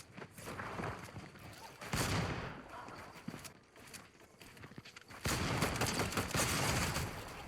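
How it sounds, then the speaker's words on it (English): Shotgun blasts and gunfire from a pump shotgun fight in Fortnite, loud bursts alongside footsteps and game effects, with a brief louder sustained stretch near the end. "He's hit me for a big pump shot."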